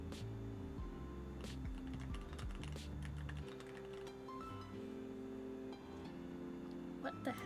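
Typing on a computer keyboard at a livestreaming desk gives soft, irregular clicks and taps under steady background music.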